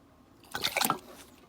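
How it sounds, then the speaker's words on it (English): A brief, soft pour of yeast starter into fruit juice for mead, a quick splashing gurgle lasting under a second. "Now that the yeast has been sitting, let's pour it in."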